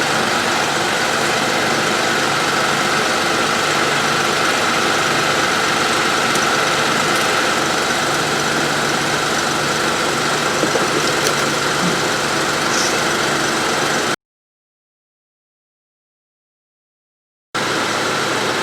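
The engine of a 2006 Honda Ridgeline idles during a transmission fluid exchange, giving a steady close rumble with light knocking that cuts out briefly near the end and then resumes.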